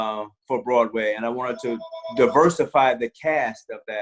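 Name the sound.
phone ringing with an incoming call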